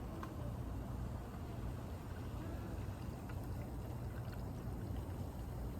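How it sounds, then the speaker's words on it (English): Topo Chico sparkling mineral water pours steadily into a glass for tequila ranch water, making a constant close fizzing, bubbling rush with no break or speech. "let's go ahead and just pour it in now. Just like that, and I'm just gonna fill up the glass."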